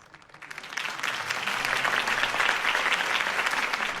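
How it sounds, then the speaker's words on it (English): A crowd bursts into applause in the video game Batman: The Telltale Series, building quickly from quiet into a steady, dense wash of clapping that holds strong to the end. "If only Mr. Wayne, my campaign's largest backer, could have heard that applause"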